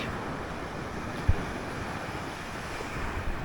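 Waves wash continuously onto a beach, a steady surf roar mixed with wind buffeting the microphone and one brief thump partway through.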